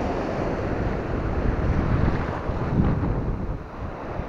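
Sea waves washing onto a beach at Stepanovka on the Ukrainian coast, a continuous close roar of surf with gusts of wind buffeting the microphone.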